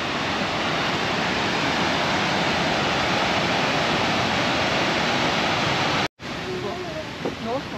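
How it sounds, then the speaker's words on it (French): A waterfall on the Cascades trail near Lac de Gaube in Cauterets roars loud and steady at close range, cutting out briefly near the end before the rush resumes with faint voices talking over it. "Regardez-moi cette cascade, c'est belle."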